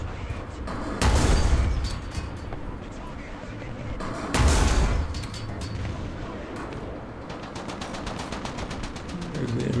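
A tank cannon fires in War Thunder while a Swedish Vickers Mk.E Type B light tank is in battle. Two heavy booming blasts stand out over constant engine rumble and battle noise, with someone talking now and then.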